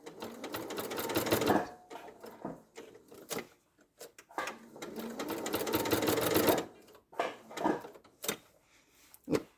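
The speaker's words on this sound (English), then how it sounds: "I'm just going to sew this on really quickly for the sake of this demo" A domestic sewing machine stitches fabric in two long motor-driven runs, each several seconds, with short pauses and a few clicks and handling knocks between them, close and fairly loud with no talk.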